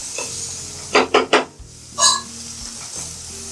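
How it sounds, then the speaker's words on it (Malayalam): Spice powders sautéed in a pan for paneer butter masala, with a few close scraping stirs of a utensil against the pan over a low, steady sizzle, no voices. "പൊടികളെല്ലാം ചേർത്ത് നന്നായിട്ട് വഴറ്റി"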